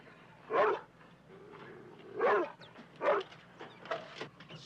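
A dog gives several short barks and whimpering yips spaced a second or so apart, close and moderately loud in a quiet indoor setting.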